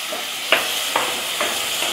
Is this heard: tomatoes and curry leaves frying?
yes